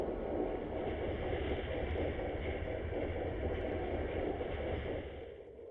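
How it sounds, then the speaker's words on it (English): Faint warship engine picked up on submarine sonar in Silent Hunter 4, a steady wash of hissing noise with a low churning rumble that fades slightly near the end, with no voices. "I can hear like the faint ghost sound of a faster moving engine."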